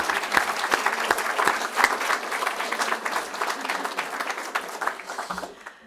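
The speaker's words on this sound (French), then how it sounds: "une autre bonne main d'applaudissements" A crowd at an evening honour roll ceremony gives a loud, sustained round of applause, dense clapping from many hands close by that tapers off near the end.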